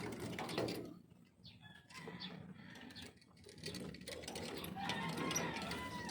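Several roosters among a flock of about seventeen males crow in drawn-out calls, layered over steady mechanical rattling and background noise.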